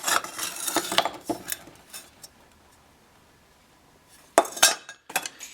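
Old glass marker light lenses from a 1946 Ford parts haul clink and rattle against each other in a few sharp bursts, with a quiet pause between them.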